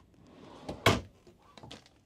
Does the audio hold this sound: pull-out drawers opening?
yes